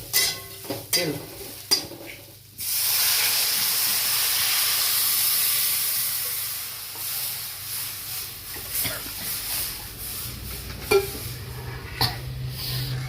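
Spices are roasted in a pan for katachi amti, with a few close scrapes of stirring at first and then a steady hiss of steam and sizzle, joined by occasional clinks toward the end.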